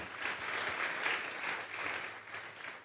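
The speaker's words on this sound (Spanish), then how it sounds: "Dele un fuerte aplauso esta tarde al Señor." Steady applause from a congregation at a Sunday church service, sustained clapping filling the whole stretch at moderate volume with no talking over it.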